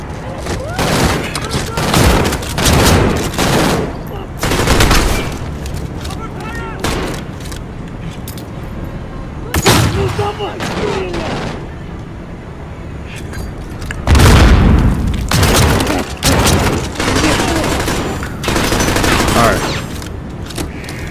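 Rapid gunfire bursts and booming flashbang blasts from a Call of Duty Modern Warfare campaign mission crack out in loud clusters, with gaps of quieter rumble between them and excited voices talking over the action.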